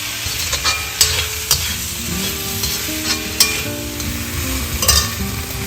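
Potatoes and curry leaves fry in a pan for a roasted-coconut chicken curry, a loud continuous sizzle with a spoon stirring and scraping at irregular intervals, and a steady hum underneath.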